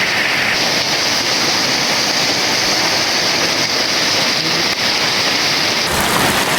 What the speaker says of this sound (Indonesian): turun hujannya agak lumayan deras juga ya teman-teman